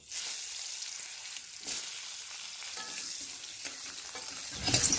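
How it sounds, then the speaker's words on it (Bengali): Cut potatoes with salt and turmeric fry in mustard oil in a karahi, a steady close sizzle with occasional stirring scrapes and a louder spatter burst near the end. "কেটে রাখা আলুগুলিকে দিয়ে লাল লাল করে ভেজে নিতে হবে"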